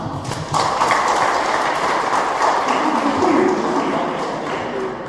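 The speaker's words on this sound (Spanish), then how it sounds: "Pido un fuerte aplauso para Sergio Núñez" An audience at a public forum applauding a speaker, dense clapping that starts abruptly and continues steadily for several seconds with faint voices underneath.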